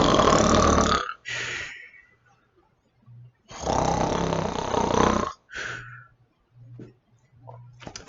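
A voice imitates snoring with two long, rasping breaths separated by pauses and short exhaled snorts, close and fairly loud.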